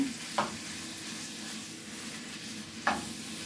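Cheesesteak meat sizzling steadily in a hot pan, with a constant frying hiss and two brief sharp clatters of a utensil against the pan.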